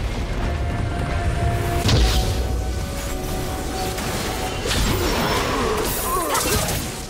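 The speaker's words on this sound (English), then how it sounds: "Blue team's turret has been destroyed" A turret destroyed in League of Legends, a heavy booming crash with crumbling and swooshing debris layered over constant battle effects and ambience.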